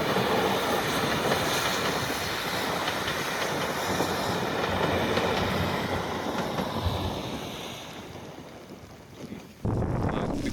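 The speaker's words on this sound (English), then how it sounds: "We braved the rain and we saw the train." A train rumbles along the tracks in the rain in Scotland, a steady broad roar mixed with wind buffeting the microphone, fading toward the end before a sudden brief bump.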